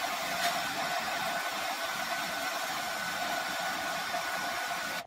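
A hair dryer blowing on clay slip to speed its drying on a hand-modelled Moroccan clay pottery piece: a steady, airy motor hum and rush of air continues unbroken, fairly close.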